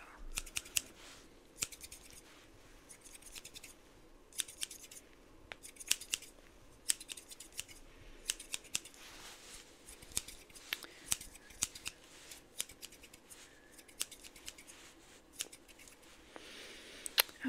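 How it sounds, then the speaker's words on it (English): Scissors snip through hair at close range in an ASMR haircut, producing a quiet, continuous stream of crisp metallic cuts with light scratchy rustling between them. "Cut off the bulk of your hair."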